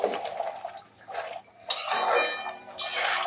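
A spoon stirs garam masala into masoor dal with okra in a metal pot, making scraping and clinking strokes in uneven bursts, each with a wet, stirring texture.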